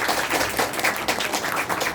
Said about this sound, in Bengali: তার জন্য একটা হাততালি